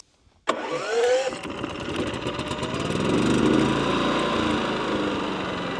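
A portable generator on a portable water system kicks into life abruptly after a brief silence, then runs as a loud, close, steady engine drone with a slight rise in intensity.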